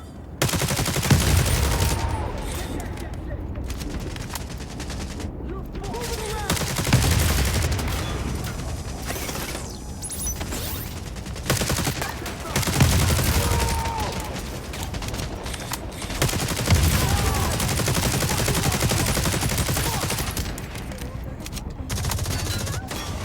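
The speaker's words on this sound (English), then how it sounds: "We're just getting shot by somebody." Sustained gunfire in The Division Resurgence video game, with bursts of automatic shots and booming volleys rolling throughout, loud and close, with occasional faint voice underneath.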